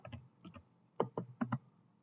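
Short burst of computer keyboard typing as a command is entered, five or six crisp close keystrokes in quick uneven clusters, quiet room, no voices.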